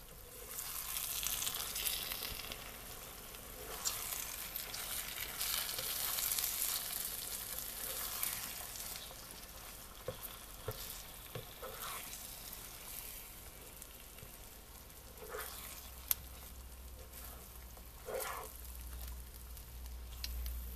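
Scrambled eggs mixed with herbs and peppers frying in a pan, a steady close sizzle with occasional scraping and stirring clicks, quiet and continuous.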